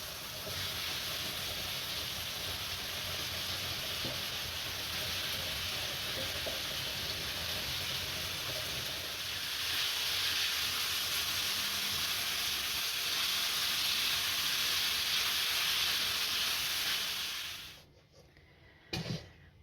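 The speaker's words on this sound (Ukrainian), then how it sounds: "Грибочки підсушились, додаю трішки олії. І фарш." Minced meat fries in oil with dried mushrooms in a pan as a steady, loud, close sizzle and hiss that fades out near the end, followed by a brief clatter.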